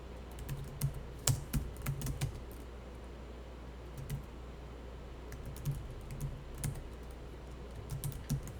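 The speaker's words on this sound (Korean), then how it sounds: "이렇게 타자하시면 되는 거죠. 엔터를 꼭 쳐야 됩니다." Computer keyboard typing with clustered keystrokes and sharper single presses like the Enter key, in a quiet room during accounting data entry; irregular bursts of clicks close to the microphone, with no talking.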